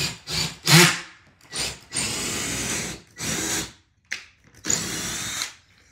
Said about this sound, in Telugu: కరెక్ట్గా మనం స్టడ్కే స్క్రూ చేయాలి.